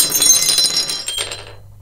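A glass shattering when struck by a powerful gadget from Wish.com, a loud close crash with bright tinkling shards scattering and falling away over about a second.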